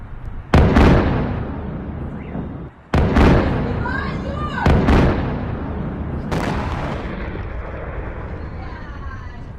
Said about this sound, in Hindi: रूसी मिसाइल गिरने से जोरदार धमाका हुआ।